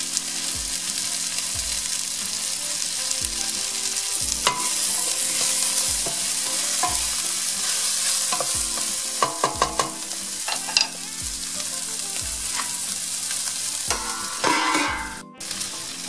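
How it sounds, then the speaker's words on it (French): Garlic sautéing in a pan for a vegetarian lentil hachis parmentier, a steady close sizzle broken by scraping stirs and clatters of the spoon against the pan. "je vais ajouter l'ail et je vais laisser sauter pour 1 minute de plus"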